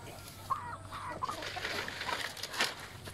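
A Belgian Shamo rooster clucks in short, soft bursts, a few separate calls spread over a quiet background with no voices.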